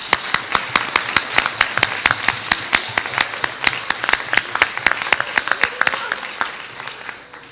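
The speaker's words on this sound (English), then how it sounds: "Let's all give them a big hand of applause" Rhythmic applause for first graders at a school board meeting, a room of hands clapping in steady, evenly spaced beats, fairly close and loud throughout.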